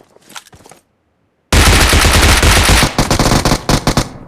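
Loud, dense bursts of rapid automatic gunfire erupt in a battle royale video game firefight, following a brief quieter stretch of scattered shots, with heavy continuous firing that breaks into shorter bursts toward the end.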